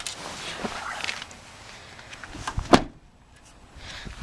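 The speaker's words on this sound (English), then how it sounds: "The doors make a funny sound when they open." A 2013 Ford F-150 pickup truck door unlatches with a sharp clunk and creaks open, following some rustling and footsteps outdoors, then quiet.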